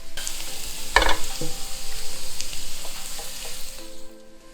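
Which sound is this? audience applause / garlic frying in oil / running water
garlic frying in oil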